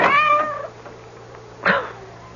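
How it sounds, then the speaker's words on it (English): A cat meows in an old-time radio horror drama: a loud drawn-out meow, a short pause, then a second shorter cry, with no voices over it. "That cursed cat."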